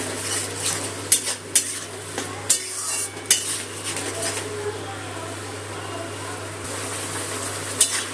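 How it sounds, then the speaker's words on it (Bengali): Ginger, garlic and green chili paste frying with onion paste in a pan, a low steady sizzle broken by several sharp clinks of a spatula scraping and tapping the pan, close by, with no talking. "আদা রসুন কাঁচা লঙ্কা বাটাটাও একটু ভালো করে কষিয়ে নেবো পেঁয়াজ বাটার সাথে।"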